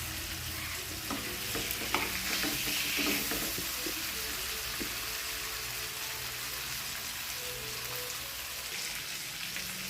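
Hilsa fish pieces frying in hot oil in a pan, a dense steady rain-like sizzle running throughout with a few scraping knocks near the start.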